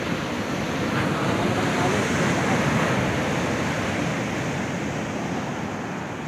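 Steady roar of ocean surf breaking on a beach, broad and continuous, with wind rushing across the microphone throughout.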